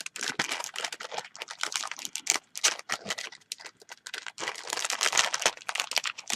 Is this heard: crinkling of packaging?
yes